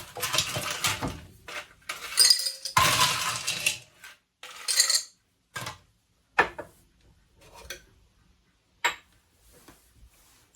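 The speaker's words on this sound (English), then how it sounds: "Top up my glass with some ice." Ice cubes dropped into a glass for an amaretto stone sour cocktail in a trailer kitchen, giving a cluster of close, bright clinks and rattles followed by scattered single clinks as the cubes settle.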